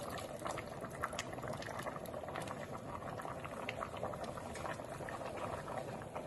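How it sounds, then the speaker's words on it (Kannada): Tamarind juice goes into a simmering pot of bisi bele bath, giving steady close bubbling and liquid splashing that continues evenly throughout without talk. "ಹುಣಸೆಹಣ್ಣು ರಸ ಹಾಕ್ತಾ ಇದ್ದೀನಿ."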